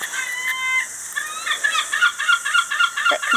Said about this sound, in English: That confounded racket is Kelsey, our pet seagull.